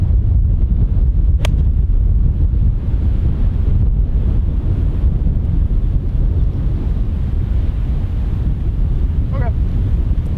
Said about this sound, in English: A lot of wind up there.